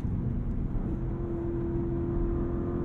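Porsche Panamera GTS Sport Turismo twin-turbo V8 in Sport Plus mode, a steady deep engine drone heard from inside the cabin, holding a constant low tone throughout with no voices.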